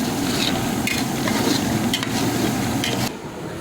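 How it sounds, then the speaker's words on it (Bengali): Mutton curry for a home feast being stir-fried (kashano) in a pan, a steady close sizzle with scraping spatula strokes running throughout, easing slightly at the end. "সবে শুরু হয়েছে, কষাতে লাগবে প্রায় 40 মিনিট"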